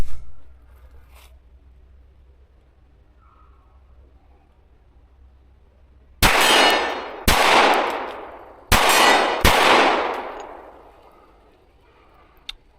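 Four sharp, loud pistol shots from a ported Fusion Firearms XF Pro, fired outdoors in two quick pairs, each crack followed by a long decaying echo after a quiet lead-in.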